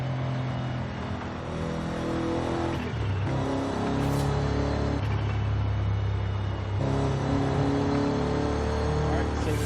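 A stock V8 engine in a Lexus drives in Forza Horizon 5, a steady, fairly loud engine drone with shifting pitch and a few gear-change breaks, running continuously throughout.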